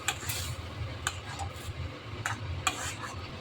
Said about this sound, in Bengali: ভালোভাবে নেড়ে চেড়ে একটু মিশিয়ে দিচ্ছি